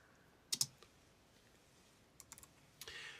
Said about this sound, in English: To move on to the next note, I simply pressed the space bar.